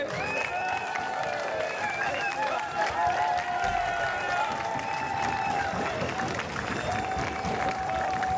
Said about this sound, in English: Il faut absolument applaudir très fort.